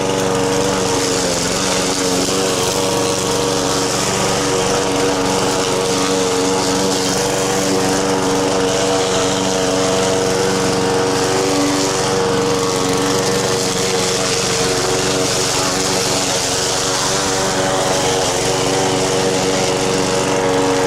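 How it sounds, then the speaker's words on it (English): A lawn mower runs steadily and loud through thick, still-wet grass in a garden, its engine drone unbroken for the whole stretch with no talk over it. "If it all would be thick grass like this, then I wouldn't be able to mow it."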